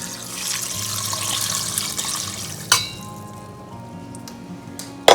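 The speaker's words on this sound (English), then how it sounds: "and then also pour in our vegetable stock." Vegetable stock poured into a pot of asparagus and onions for asparagus soup, a steady splashing pour that stops partway, followed by quieter clinks near the end.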